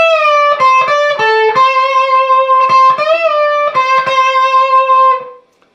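A bright, slightly overdriven electric guitar plays a fluid lick, notes bending up and back down, with quick picked notes in an unaccompanied phrase.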